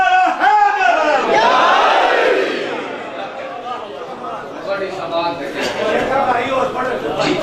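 Crowd at an Eid Milad-un-Nabi gathering at a house shouts the Nara-e-Haidari slogan together, a loud massed roar of voices that swells then eases off and rises again, with people talking over it.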